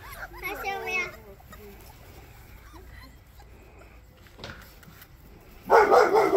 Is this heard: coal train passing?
no